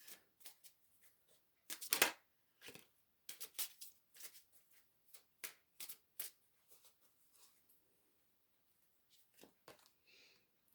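Tarot cards being shuffled close by in quick, uneven bursts of riffling and slapping, with short gaps between the handfuls.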